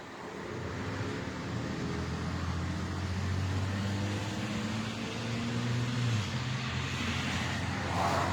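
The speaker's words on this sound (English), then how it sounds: "Some little 4-banger with a so-called fart can on it for a muffler" A small four-cylinder car with a loud fart-can muffler drones steadily at night, a distant, faint, continuous rumble with a low buzzing hum that swells slightly toward the end, with no one speaking.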